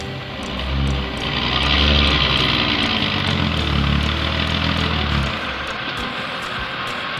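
Heavy farm tractor engine straining to pull a vehicle stuck deep in mud, a loud, steady diesel drone that swells and holds for about five seconds before easing back to a lower idle.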